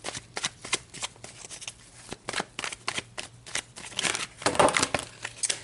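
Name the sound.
shuffling tarot cards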